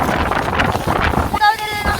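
Wind buffets the microphone in loud, gusty rumbles in rural Ilocos Sur, Philippines, with voices talking nearby underneath the blustery noise.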